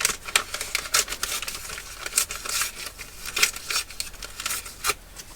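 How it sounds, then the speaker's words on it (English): A book page is folded in half for a junk journal project, giving close, loud papery crinkles and sharp creasing rustles in quick irregular bursts, with no voice. "maybe I will also fold this book page in half"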